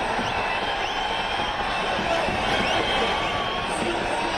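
A large street crowd of cricket fans at the Team India victory parade, welcoming the team home after its win over South Africa, fills the air with a steady, dense roar of cheering and shouting, with whistle-like cries rising above it.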